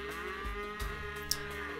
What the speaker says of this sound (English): I can hear the sheep